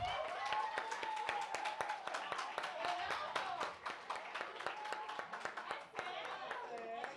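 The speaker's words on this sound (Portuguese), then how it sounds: "Por favor, um aplauso para..." Applause from an audience at a Portuguese-language talk or event, a dense run of sharp claps with some voices calling out over them, steady for several seconds before starting to thin.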